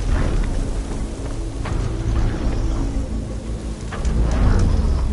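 A heavy downpour hisses steadily through a thunderstorm in the game Horizon Forbidden West, with low rumbling thunder rolling underneath and swelling louder toward the end, no voices present.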